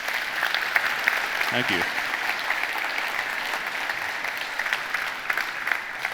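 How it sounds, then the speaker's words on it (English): A conference audience applauds after a talk, with continuous crowd clapping filling the whole stretch at an even level while a voice briefly speaks over it. "Everyone, please give Chaz another round of applause"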